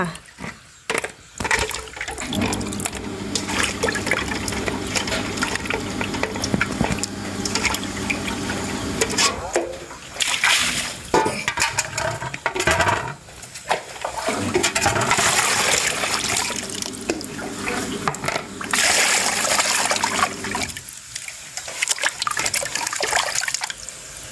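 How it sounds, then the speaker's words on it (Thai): Clean water pours and splashes steadily as freshly scaled fish are rinsed for an Isan-style fish laab, pausing twice before resuming. "หลังจากเขาขูดเก็ดปลาเรียบร้อยจ้าพี่น้องเขาก็สิน้ำมาล้างน้ำสะอาดออกจ้า"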